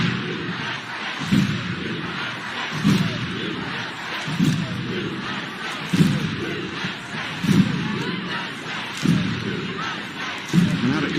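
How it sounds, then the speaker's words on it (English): A large stadium crowd in St. Louis roars through a women's football match between the USA and Ireland, a steady dense swell with rhythmic louder surges, heard under a commentator's voice. "St. Louis crowd doing their part."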